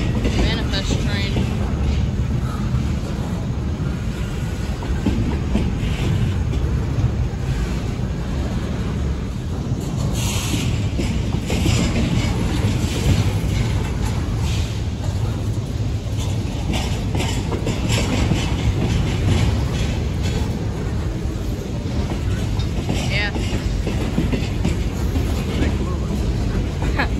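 A CSX manifest freight train rolling past nearby, a steady loud rumble of wagons with rhythmic clacking over rail joints and wind buffeting the microphone, continuous throughout.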